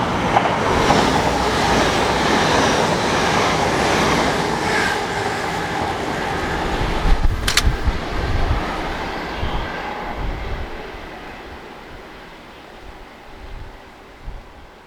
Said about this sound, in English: The approaching train.